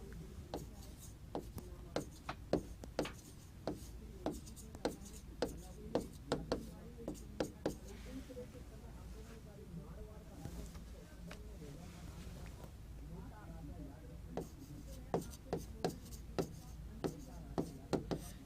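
Chalk tapping and scratching on a board comes in quick strokes and taps while a teacher talks through a lesson on Chinook winds; the strokes are faint and sit under continuous speech.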